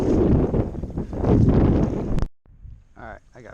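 Strong wind buffets the microphone during kayak fishing on open water, a loud rushing roar for a couple of seconds that cuts out abruptly, followed by quieter ambient sound with a voice speaking.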